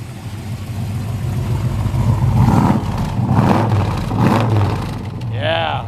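A 1969 Plymouth Barracuda fastback engine rumbles at idle and swells through a few revs, heard from the back of the car, with voices talking over it and a brief high chirp at the end.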